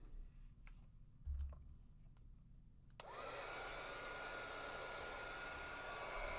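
Hot air blasts steadily from a heat tool aimed at a craft mat while gourds are being decorated, a loud continuous rushing roar that starts abruptly partway through after a few quiet taps and rustles.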